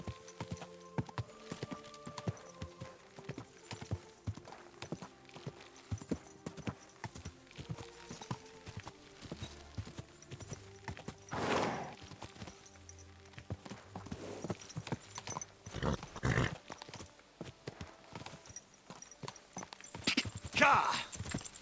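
Horse hooves clip-clop steadily in Kingdom Come Deliverance 2, a rhythmic walking patter under a spoken voice, with a brief whinny and louder rustling bursts near the end.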